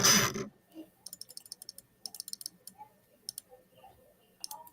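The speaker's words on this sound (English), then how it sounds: "I'm clicking my mouse." A computer mouse is clicked again and again, with the clicks coming in quick irregular bursts spread across the stretch. They are close and crisp, following a short loud noise at the very start.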